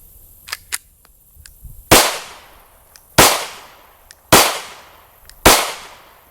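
Four loud, sharp shots from a Glock 43 pistol fired after being soaked underwater, spaced roughly a second apart outdoors, each with a ringing decay, preceded by a few faint clicks of handling.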